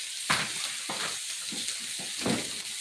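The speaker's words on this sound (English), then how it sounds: "One more toss for the shrimp." Shrimp tossed in a hot buttered pan give a steady sizzle, with several rhythmic swishes and scrapes as the pan is shaken, fairly close and without talk.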